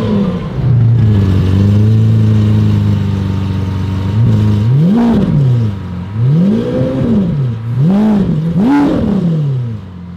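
A straight-piped Lamborghini Aventador Roadster V12 idles loudly, then is blipped in a series of sharp revs that rise and fall in quick succession, close and booming with no talk over it.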